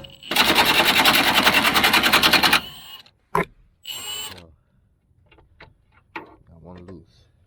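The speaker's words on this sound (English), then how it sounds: "The heavy duty impact wrench" A heavy-duty impact wrench rattles in one loud, rapid burst of about two seconds while loosening bolts on a 2016 Chevy Malibu. A sharp knock and a few short spoken remarks follow close by.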